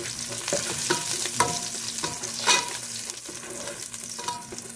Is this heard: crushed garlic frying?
yes